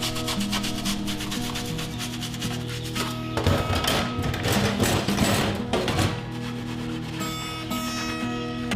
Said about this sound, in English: I will just give everything a quick dishwash scrub to remove the already loose